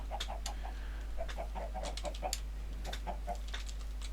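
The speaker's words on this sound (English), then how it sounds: "Little chicken farm going down there." Chickens on a farm in a survival video game cluck steadily in soft, overlapping bursts, heard faintly at a distance over a constant low hum.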